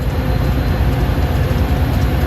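Metra Union Pacific train 347 hauled by an F59PHI locomotive rumbles past close by, a loud, steady roar of wheels and rail noise with faint rhythmic clatter throughout.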